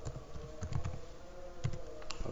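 Keys clack on a computer keyboard as a directory command is entered in a Linux terminal, a steady run of close, light taps with a few sharper strokes and no voices.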